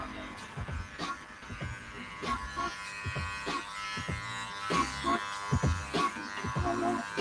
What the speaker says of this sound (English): people thinking you can't clipper over comb when dealing with curly or coarse hair